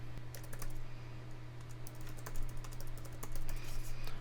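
Keys clatter in quick irregular runs on a computer keyboard, steady typing at close range over a low constant electrical hum.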